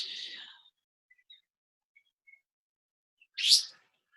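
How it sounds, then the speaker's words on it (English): Small birds flitting around overhead give a few brief, high chirps: one short burst at the start, faint scattered peeps, then a sharper louder chirp near the end, with quiet gaps between. "We've got little birds also flying around at the top of our heads at the moment."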